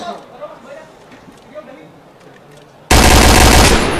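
Gunfire in the Point Blank first-person shooter game during a 2013 tournament semifinal match, a sudden loud sustained burst of rapid automatic fire that follows quieter game sounds and commentary.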